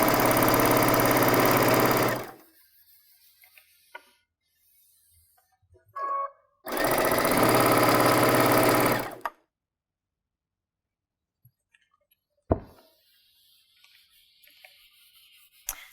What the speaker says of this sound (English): So let's sew one more time.